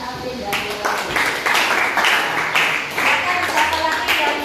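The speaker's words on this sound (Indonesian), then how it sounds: "tepuk tangan untuk Hari Alvin dan Dorothy" Students in a classroom break into applause for two classmates, a dense, steady patter of many hands clapping at close range, loud and sustained with a voice carrying over it.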